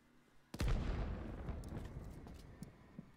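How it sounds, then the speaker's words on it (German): A loud explosion bursts in a battlefield video game, a sudden boom followed by a long rumbling roar that slowly fades, with a few smaller pops and cracks trailing after. "Gott, das Ding explodiert gleich."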